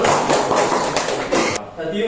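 Group of students clapping a rhythmic salute clap in a classroom, a burst of dense claps for about a second and a half that stops abruptly, with voices present.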